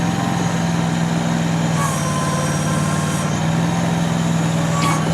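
A one-ton Yanmar-type mini excavator, the XZ20R, runs steadily at reduced RPM with a continuous low diesel drone and a few faint higher tones, close by and fairly loud with no talk.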